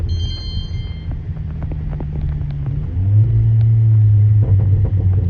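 A 2019 Volkswagen Arteon engine rumbles steadily and its pitch rises, with faint crackling pops from the downpipe exhaust scattered over the deep drone.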